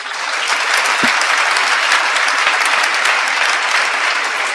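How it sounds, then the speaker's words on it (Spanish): A church congregation claps loudly and steadily after a sermon, dense sustained applause filling the room from start to finish. "Un aplauso a Cristo."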